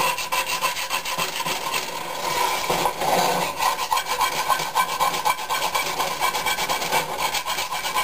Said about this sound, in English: you scrape it along this way, along the sides of the pan